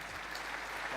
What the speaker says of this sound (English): Get a clap.